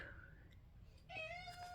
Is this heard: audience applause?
no